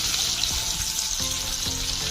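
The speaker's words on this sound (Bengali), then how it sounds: "কাজুটা প্রায় ভাজা হয়ে যাবে তখন আমি কিডনিসটা দেবো কাজুর সঙ্গে" Cashews sizzling in hot oil in a pan, with raisins to follow, for Bengali zarda pulao: a steady, close frying hiss with a few soft clinks of stirring, and no talk.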